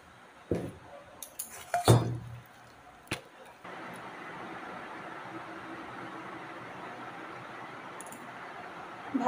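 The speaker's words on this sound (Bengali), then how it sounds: "ভাতের ব্যাটারটিকে ছেঁকে নিয়েছি।" Rice batter made from ground leftover cooked rice is strained through a sieve into a pot, with a few sharp metal clinks and scrapes at the start, then a steady soft wet trickle continuing alone.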